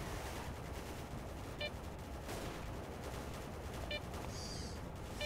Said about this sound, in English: And that's a shotgun.